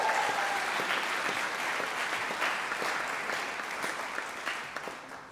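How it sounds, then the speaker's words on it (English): An audience at a summer camp gathering gives a round of applause. The dense, steady clapping gradually tapers off and holds a moderate, slightly distant level. "Can we give them a round of applause as well?"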